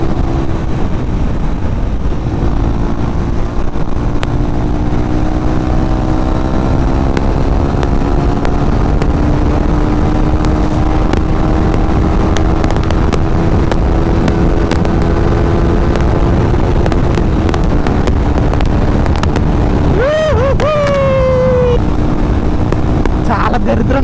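A KTM RC 390 motorcycle engine drones loudly and steadily while riding on the road, with a rough, raspy tone under constant wind roar and a brief rising rev near the end.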